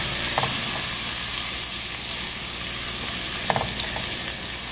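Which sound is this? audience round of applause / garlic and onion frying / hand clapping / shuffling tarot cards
garlic and onion frying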